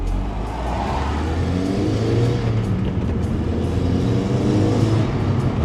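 An Audi TT engine drones steadily as the car pulls away under light throttle. A low, continuous hum with a faint whir stays fairly constant, with no voices.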